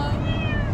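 A single short cat meow, drawn out and slightly rising, heard up close over a steady low background hum, with no voices over it.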